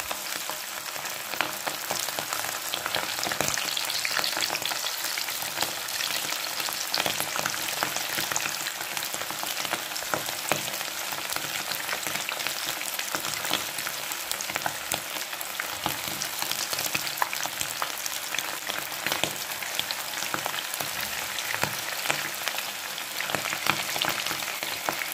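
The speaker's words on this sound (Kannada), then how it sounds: "ಈಗ ನಾವು ಇದನ್ನು ಆಯಿಲಲ್ಲಿ ಫ್ರೈ ಮಾಡ್ಕೊಳ್ಳೋಣ" Prawn kababs deep-fry in hot oil with a dense, constant sizzle and crackle, loud and close, carrying on without a break and with no voices.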